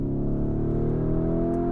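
A 2021 Lamborghini Urus engine pulls steadily under load, its harmonic drone climbing gradually in pitch over almost two seconds, continuous and fairly loud with no talking.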